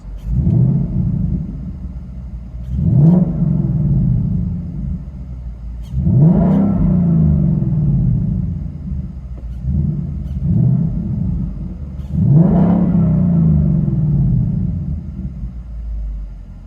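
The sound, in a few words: car exhaust revving with H-pipe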